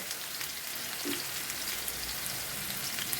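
Minced chicken cutlets frying in a pan, a quiet, even crackling sizzle with tiny pops scattered through it, steady from start to finish.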